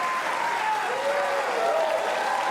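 A studio audience on a televised talk show claps steadily and loudly for a full couple of seconds, a dense wash of applause with a faint voice briefly rising above it.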